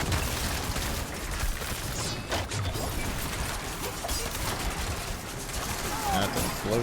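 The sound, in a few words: explosion in the video game Diablo IV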